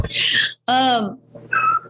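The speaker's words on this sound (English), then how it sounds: "sorry if there's cat meows" A pet cat named Zoe meows three times in close succession, loud and near, the middle call long and drawn out, with short gaps between the cries.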